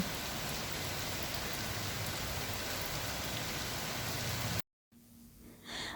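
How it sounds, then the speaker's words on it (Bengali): Heavy rain pours steadily in a dense, unbroken hiss, then cuts off abruptly near the end, leaving a quieter stretch. "আজকেও সকালবেলাও কিন্তু প্রচুর বৃষ্টি হচ্ছে"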